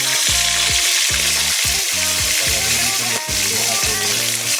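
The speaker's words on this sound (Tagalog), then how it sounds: "Isda at prito." Mackerel fries in a very hot pan, a loud constant sizzle and crackle close up, with a rhythmic low pulsing texture running underneath.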